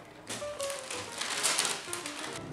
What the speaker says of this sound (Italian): Tagliamo il sacchetto a 30 cm.